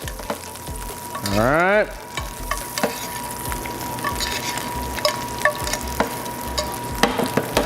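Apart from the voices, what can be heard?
food frying and being basted in browning butter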